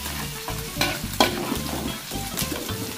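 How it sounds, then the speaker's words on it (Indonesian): Garlic, shallots and crackers sizzle and fry in a pan over a rural forest cooking fire, with a utensil stirring and scraping in quick repeated strokes, close and loud with no talk. "kita masukin bawang putih, bawang merah. Kita tumis dulu nih kerupuknya."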